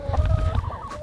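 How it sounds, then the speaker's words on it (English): A mixed flock of older and younger hens, combined into one group on a homestead, clucks and murmurs continuously up close, with overlapping calls and a few higher squawks. "we just combined all the chickens"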